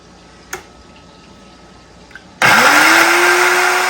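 A blender starts up on chili and garlic for tamale masa. After a couple of faint knocks it bursts into a loud, steady whir whose motor pitch climbs as it gets up to speed, with no talking.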